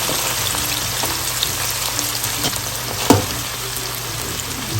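Garlic frying in hot oil for white chicken pulao: a continuous close sizzle with occasional soft spoon taps and one sharp knock against the pot.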